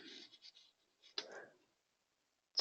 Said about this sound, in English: I'm going to just lightly sketch in these feathers here